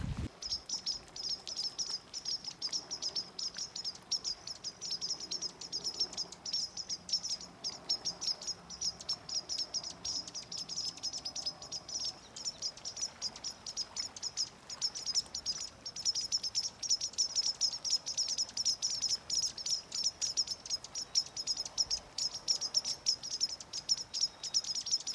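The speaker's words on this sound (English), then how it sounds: "The birds are pretty upset about this little ferret running through the tall grass." Birds chirp and call persistently around tall grass where a small ferret runs, a dense, fairly faint chorus of rapid tweets mixed with insect buzz, continuing evenly throughout on a remote Colorado mountain pass.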